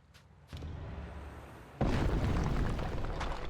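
An explosion goes off in the video game Kingdoms of Amalur: Re-Reckoning as a heavy, roaring blast that hits suddenly and then rumbles on. A fainter thump and a low swell come just before it.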